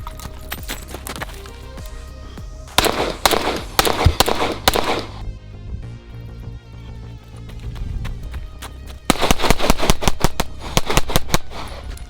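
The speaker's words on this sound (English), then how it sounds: "it's just so good at shooting fast and transitioning from target to target" A Springfield Prodigy pistol fired rapidly in several loud, close bursts of quick shots, separated by pauses with a lingering ringing tail.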